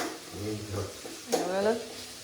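Vegetables stirred and frying in a pan for Kannada-style upma, with onion and tomato, giving a soft, steady sizzle and scraping of a spoon, a voice briefly talking over it near the start.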